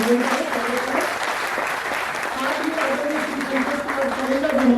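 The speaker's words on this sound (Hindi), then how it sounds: "आप जोरदार तालियों से हमारे" A lecture audience applauding at a national education policy event, a loud continuous wash of clapping with voices audible underneath.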